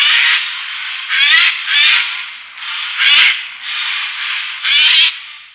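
A Eurasian jay in a forest screeching loudly and close, harsh rasping calls in a run of about seven bursts with brief gaps and no talking.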